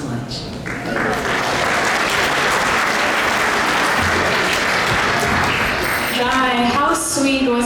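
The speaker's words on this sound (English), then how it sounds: "Another round of applause for Her Grace Vrnda Devi Dasi." A congregation at a Sunday feast lecture in an ISKCON temple in Toronto applauds, sustained dense clapping that swells after the first second and holds, with a voice speaking over it near the end.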